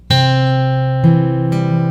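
Fingerpicked guitar notes ring out clearly, a sustained chord followed by two more plucked attacks, close and fairly loud with no voices.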